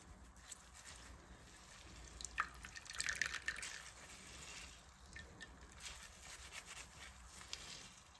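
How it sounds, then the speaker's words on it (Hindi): Water dripping and trickling from squeezed onions and green chillies in a home kitchen while making kebabs, a faint, steady patter with a few louder splashes near the middle. "अपने अनियन को दोनों हाथों से अच्छी तरह से प्रेस करके इसका सारा कुछ निचोड़ देना है"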